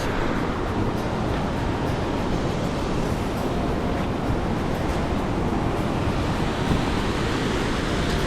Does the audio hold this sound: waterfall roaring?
yes